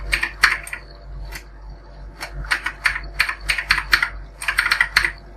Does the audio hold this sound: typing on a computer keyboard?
yes